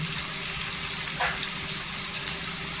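Chillies sautéing in oil in a pan, a steady low frying sizzle heard alone.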